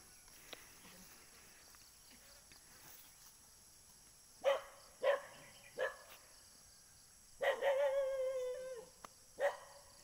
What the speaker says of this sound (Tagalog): May tao kasi kaya tumatahol yung aso.